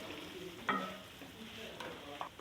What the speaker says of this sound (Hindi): टमाटरों के साथ इसको ज़रा 2 से 3 मिनट में भूनती हूँ।